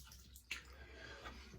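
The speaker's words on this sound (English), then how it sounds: "Nice warm water rinse here." Warm water runs from a tap for a rinse during wet shaving, a faint, close trickle with a brief splash near the start, quiet and without talk.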